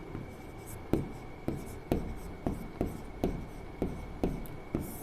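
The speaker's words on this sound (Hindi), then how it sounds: "5 पॉइंट लिखता हूँ।" Pen writing by hand on paper, a series of about nine short scratching strokes spaced roughly half a second apart, close and fairly quiet, with no one speaking.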